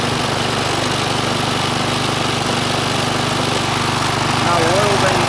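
Rover four-stroke lawn mower engine running steadily with its air filter removed, a continuous loud droning rumble held close up without a break.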